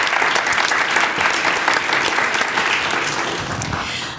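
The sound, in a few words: audience applause at oath of office ceremony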